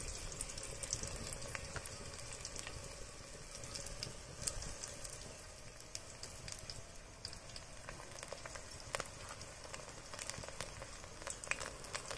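Garlic frying in hot oil, a steady, fairly quiet crackling sizzle with scattered tiny pops throughout, no talking.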